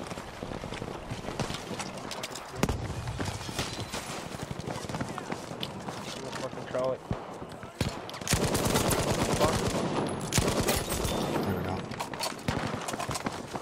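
Battlefield V gameplay gunfire, with rapid automatic bursts and single shots crackling close and loud amid constant battlefield noise, while a player talks over it.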